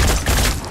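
Dense, loud burst of rapid gunfire from the tactical strategy game Phoenix Point, a continuous blast of overlapping shots filling the whole moment with no voices.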